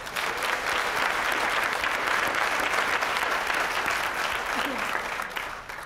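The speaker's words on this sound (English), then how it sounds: "Please give all of these students a round of applause" A large audience applauds graduating students at a 2016 high school graduation celebration, steady dense clapping that stays loud and even for several seconds with no break.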